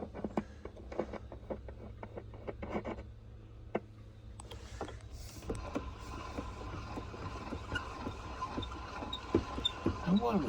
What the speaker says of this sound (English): I will give it a few turns of the crank